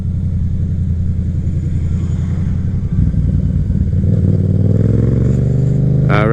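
A Yamaha FZ07 motorcycle rides along a highway, its engine droning loud and steady throughout with wind rumble, the pitch rising near the end as the throttle opens.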